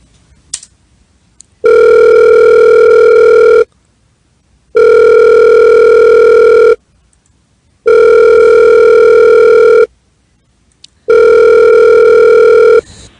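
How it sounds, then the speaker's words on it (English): A telephone line rings back four times while a call is placed, each loud steady electronic tone lasting about two seconds with silent gaps between. "Let me call up the last person again."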